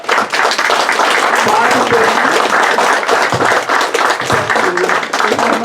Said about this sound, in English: I would ask now that the local donors who are here in attendance, please stand for applause